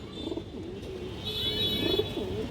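A light-coloured pigeon at a pigeon market coos in a few soft, rolling calls nearby, over a low background hum, with no speech.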